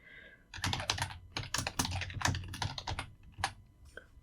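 Rapid, uneven clatter of keys on a computer keyboard while a long tag is entered by hand, close and fairly loud, with bursts of keystrokes and brief pauses.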